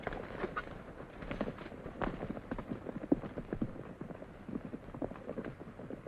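Horses' hooves clip-clop in a busy, irregular patter of many overlapping steps, moderately distant and steady throughout, in a classic Western film scene with no talking.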